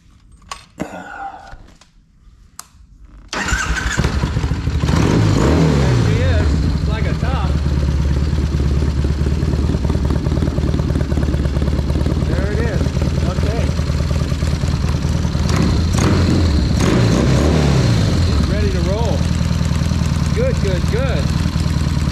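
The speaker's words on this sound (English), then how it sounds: "So see if she'll start up here, because I haven't started it in a while." A 2006 Triumph Bonneville cafe racer motorcycle gives a few cranking attempts, catches and fires up, then settles into a loud, steady, close idle with a throaty burble, while someone talks over it.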